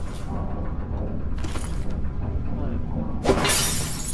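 Glass shatters in Dishonored: Death of the Outsider, a bright crash near the end of the clip. A shorter breaking burst comes earlier, and a low muffled game background runs underneath.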